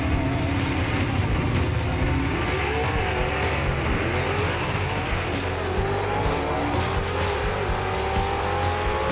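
Two 1967 Camaro gasser race cars drag race at Knoxville Dragway, their engines roaring loud and continuous with rising pitch as they accelerate down the strip.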